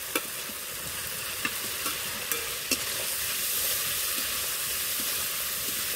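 Fried potatoes sizzle and hiss steadily in hot spiced oil for matar paneer, with several sharp clicks of a spoon stirring against the pan over the continuous frying.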